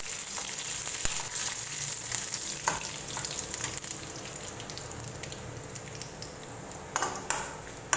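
Curry leaves hitting hot oil in a mustard seed tempering for a vellarikka pachadi give a bright, crackling sizzle with sharp pops, a few loud spatters and metallic pings near the end, close and with no voices.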